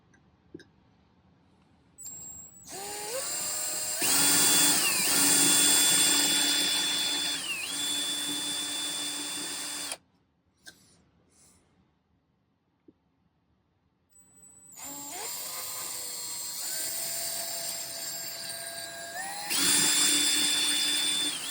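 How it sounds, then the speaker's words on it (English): An electric drill whines at high speed in two long runs separated by a quiet pause, its pitch dipping briefly as it bites into a pendant. "I don't have a fancy rotary tool, so I'm just going to use my drill."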